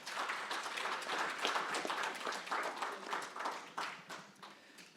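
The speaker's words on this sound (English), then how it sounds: "Please, a round of applause for our panelists." Audience applause for panelists at a financial policy forum panel discussion, a steady mass of clapping lasting several seconds with no talk over it.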